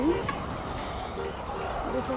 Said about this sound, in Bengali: এটা হচ্ছে আমাদের মুরগি ফার্ম।